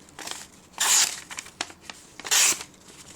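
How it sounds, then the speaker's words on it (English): The main blade of a Victorinox Recruit Swiss Army knife doing a cut test, giving two sharp, close slicing rasps with small ticks and rustles between them. "you got your main blade here, fairly thick for the size of the tool, pretty sharp. Do our normal cut test here"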